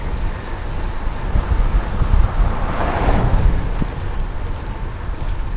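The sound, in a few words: wind blowing outdoors during a night bike commute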